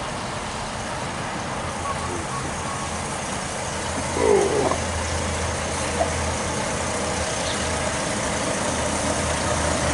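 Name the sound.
son's new truck driving past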